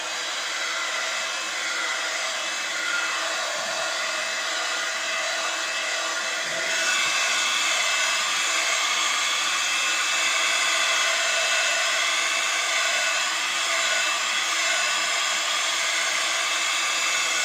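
A heat gun blows hot air onto a rod: a steady, loud, breathy roar with an even hiss that holds for the whole stretch and gets slightly louder partway through, with no talking.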